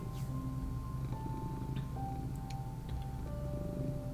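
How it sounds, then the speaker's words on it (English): A cat purrs up close in a steady, low, rhythmic rumble that runs the whole time, quiet overall, with faint ticking and thin tonal hums in the room behind it. "Your purring is making me sleepy"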